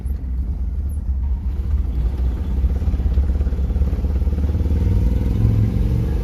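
A car pulls away in second gear, its engine drone rising steadily in pitch and loudness as it accelerates, heard from inside at close range with no talk.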